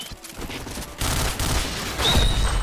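Gunfire in the first-person shooter Point Blank, with quick bursts of shots over game noise that get louder and fuller partway through, ending with a short high ringing tone.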